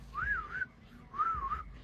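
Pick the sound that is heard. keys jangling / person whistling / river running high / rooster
person whistling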